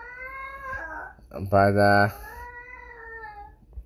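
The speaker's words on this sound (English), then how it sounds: "don't mind my cat yelling and screaming in the background" A cat yowls and screams loudly in the background of a room, a drawn-out caterwaul swelling to a harsh peak, while a person speaks over it.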